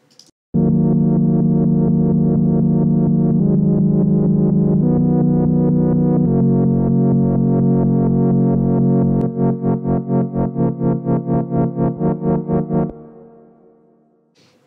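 A remix track plays without its tremolo effect, a loud sustained distorted synth chord with reverb and delay that shifts pitch every couple of seconds, then turns to pulsing repeated hits before it fades out.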